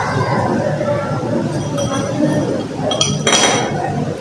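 A spoon clinks against a glass while two spoonfuls of jaggery are stirred in, a few bright metallic taps near the end over steady background noise, with someone talking.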